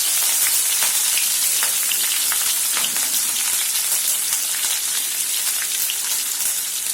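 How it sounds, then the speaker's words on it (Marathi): Finely chopped green chilies hitting hot cumin-mustard tempering, a dense steady crackle and hiss with scattered sharp pops throughout, close and continuous with no talk. "जिरं मोहरी व्यवस्थित झाले की याच्यात आपण हे हिरव्या मिरच्या बारीक घेतलेलं टाकून"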